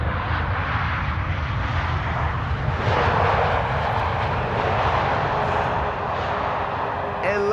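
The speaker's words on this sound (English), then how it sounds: "LATAM Dreamliner, flight 8078. Having arrived now from Sao Paulo." A LATAM Boeing 787 Dreamliner arriving at Amsterdam Schiphol from São Paulo gives a loud, steady jet engine roar that swells midway, with someone talking over it.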